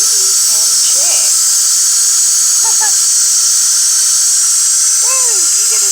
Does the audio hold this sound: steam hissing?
yes